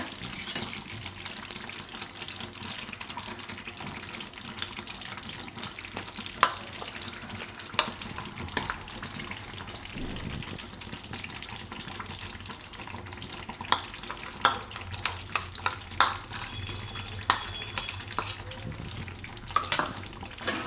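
Cream is stirred into a thick fenugreek muthiya gravy in a pan: faint, intermittent spoon scrapes and soft wet sloshing with no talking.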